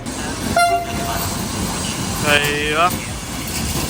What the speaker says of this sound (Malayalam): നല്ലൊരു ക്യൂട്ട് ഡീസൽ ലോക്കോ ഉണ്ടല്ലേ, കുഞ്ഞി ലോക്കോ.